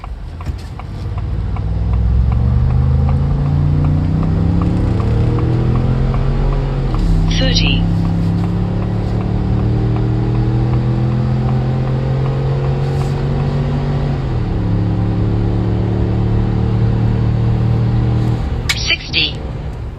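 A 2024 Ford F-150 EcoBoost pulling a trailer accelerates from 0 to 60, its engine note climbing steadily through long rising sweeps with pauses at two gear shifts, heard from inside the cab, with faint ticks at the start and end.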